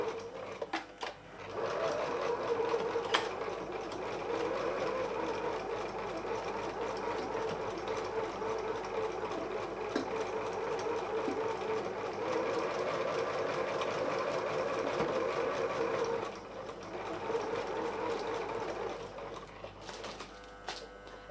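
A Husqvarna sewing machine that has not been oiled in a while runs a zigzag stitch, giving a steady close mechanical whir with rhythmic clatter. It runs continuously, with a brief dip near the end.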